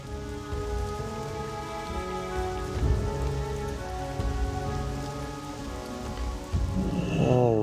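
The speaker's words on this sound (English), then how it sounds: "A bit rainy today." Steady rain falling on surfaces in Thunder Bluff in World of Warcraft Classic, a continuous dense patter with game ambience and tonal music underneath, swelling slightly toward the end.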